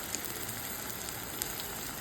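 Tomatoes and curry leaves sauté in a pan with a faint, steady, even sizzle that holds throughout with no pauses.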